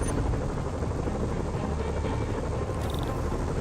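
A steady helicopter drone in the video game Marvel's Spider-Man fills the clip, a dense continuous roar with a faint beating texture, loud and unchanging.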